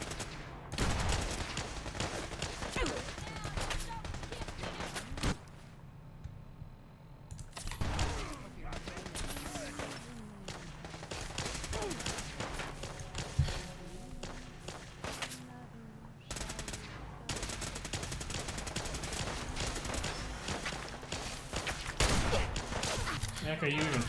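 Enemies spray sustained automatic gunfire in the modded video game Fallout 4, with rapid bursts and scattered single shots continuing through a long stretch of battle. A voice speaks at times over the fire.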